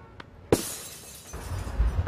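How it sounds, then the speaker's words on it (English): A sound effects machine is broken amid glass shattering: a sharp, loud crash with a bright spray of breaking glass, followed by lingering debris and low rumbling thuds. "that guy broke her sound effects machine"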